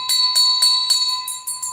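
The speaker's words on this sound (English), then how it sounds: "Y'all ring that bell." Bright metallic bell rung in quick repeated strikes, about seven clear ringing hits in an even rhythm, each leaving a sustained shimmering tone, close and alone.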